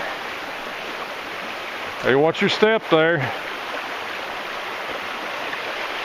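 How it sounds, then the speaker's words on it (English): A small creek flows just upstream of a waterfall, giving a steady broad rush of water throughout, with someone briefly speaking over it midway. "It's a nice little creek."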